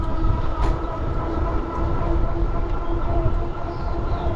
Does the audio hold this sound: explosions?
no